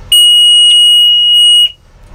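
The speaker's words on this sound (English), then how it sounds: "So that is your high water bilge pump, alarm, and pump." A high water bilge pump alarm on a Cutwater 24 Coupe boat sounds in test mode, a loud, steady, piercing electronic tone lasting about one and a half seconds before cutting off.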